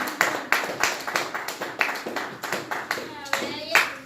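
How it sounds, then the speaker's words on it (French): Rhythmic unison clapping from a church congregation after a French-language sermon, steady beats about every third of a second, fairly close, with some voices underneath. "Est-ce qu'on peut acclamer pour cette parole?"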